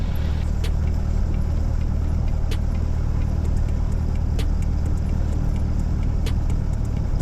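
A Cessna Skyhawk light aircraft engine drones steadily as the plane taxis across a runway at an airport, a loud, even propeller hum with faint intermittent clicks over it.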